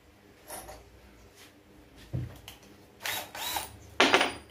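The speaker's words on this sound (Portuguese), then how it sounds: "Furar aqui um pouco para não deixar vazado pro lado" A power drill bores a hole through a homemade keychain piece in short, separate bursts that grow louder toward the end, with quiet handling noise in between.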